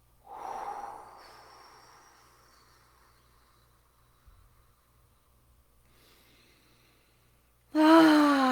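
A forceful exhale during a guided breathing exercise, a close breathy rush that fades into quiet, followed near the end by a loud voice starting to speak.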